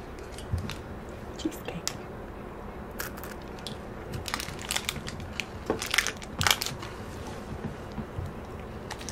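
Crunchy bites and chewing on a Japanese white chocolate snack, close and soft, with scattered crisp cracks and squishy mouth sounds over a quiet room hiss.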